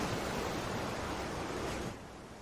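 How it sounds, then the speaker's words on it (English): Recorded ocean surf plays as meditation background, a steady broad wash of waves that holds evenly and then drops slightly softer near the end of a short stretch. "We selected some ocean music today to tune into for our meditation."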